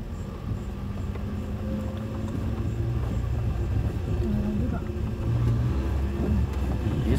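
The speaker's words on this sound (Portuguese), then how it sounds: "Estou aqui no meu poisé, no meu jeguinho, ensinando a Fernanda a dirigir" A small car drives along a street during a driving lesson, its engine running steadily near and fairly loud throughout, with low rumbling road noise and a slight rise in revving toward the end.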